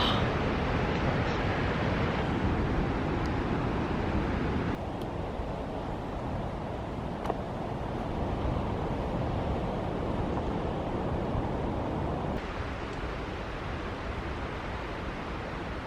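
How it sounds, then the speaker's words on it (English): Ocean surf at Cannon Beach on the Oregon coast, a constant broad roar of breaking waves mixed with wind buffeting the microphone, loud and unbroken throughout. "I don't even know if actually you'll be able to hear me very well because of the sound of the waves."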